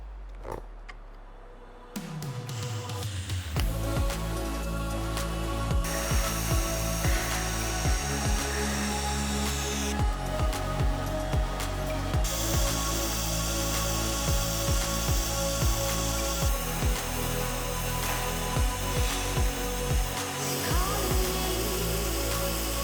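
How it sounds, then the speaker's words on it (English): TIG tack welding fuses 304 stainless steel exhaust pipe with no filler, a steady loud buzzing hiss with rhythmic pulsing crackle running nearly throughout, close up and without talk. "So this is 304 stainless steel. I'm going to tack it together now."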